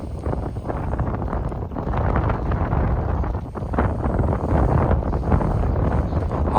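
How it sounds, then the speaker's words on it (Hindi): Strong wind gusting across a bridge construction site in Mirpur, Azad Kashmir, a loud continuous buffeting rush that swells and dips over several seconds, with no talk. "हवा जी है ना वो वापस काफ़ी तेज़ हुई है"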